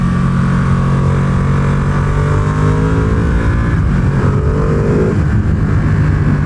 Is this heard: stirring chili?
no